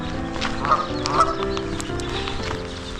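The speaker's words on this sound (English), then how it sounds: "that is a Canada goose" A Canada goose honks at Lake Casitas, several nasal calls over a busy outdoor background, fairly close.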